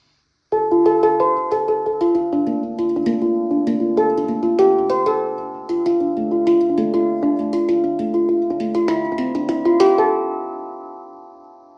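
A handpan struck in its centre dong area and around the outer tone fields, producing a steady stream of bright, ringing metallic notes with long overlapping sustain, played alone and left to decay at the end.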